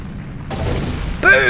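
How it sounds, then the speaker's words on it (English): Castle collapsing in Zelda Ocarina of Time, with breaking gas pipes and falling towers: a low rumbling crumble that builds, then a louder crashing burst near the end. "Gas pipes are breaking, towers collapsing. The whole castle's becoming a massive pancake."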